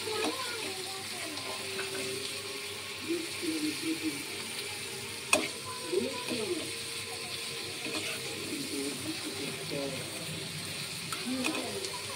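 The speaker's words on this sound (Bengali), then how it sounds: "পেঁয়াজটা ভাজা হচ্ছে, বাকি আছে, কিন্তু এর মধ্যে এবার রসুনটা দিয়ে রসুনটা ভেজে নেব" Onions and garlic fry in a pan, a soft, continuous sizzle under a speaking voice, with occasional clicks and scrapes from stirring.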